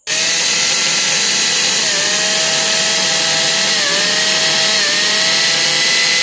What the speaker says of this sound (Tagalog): Nakita nyo na ba yung aking drill test gamit yung Lotus na impact drill na ito?